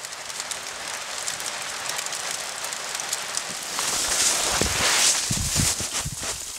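Steady rain hisses across the whole stretch, growing heavier and denser in the second half, with a few sharper drips and patters close by.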